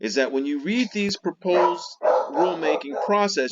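Dogs bark and yip in short bursts mixed in with a person speaking close to the microphone, with the barking partly masked by the talk.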